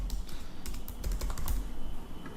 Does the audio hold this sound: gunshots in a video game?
no